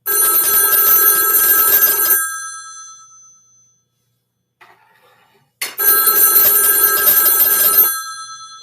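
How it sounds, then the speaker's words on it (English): Loud telephone bell ringing from a central office analyzer ring cycle: two long bursts of about two seconds each, separated by a silent pause with a faint click. "You can see that it's ringing."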